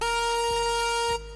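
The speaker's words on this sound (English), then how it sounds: "Sounds like this without the filter." Harsh and bright, an unfiltered wavetable lead synth from the Xpand!2 plugin blares one loud sustained note, horn-like, over a soft low pulse, then cuts off abruptly.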